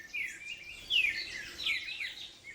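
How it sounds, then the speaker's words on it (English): Small birds chirp in woodland at La Florida, Colombia. Several thin, high chirps come in quick bursts, faint and a little distant, over a quiet background. "The little birds show up first."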